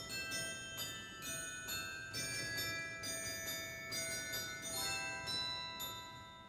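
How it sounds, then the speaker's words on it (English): A glockenspiel rings out a melody of bright metallic struck notes at a steady pace, each tone sustaining over a faint noisy background. "Here's a glockenspiel."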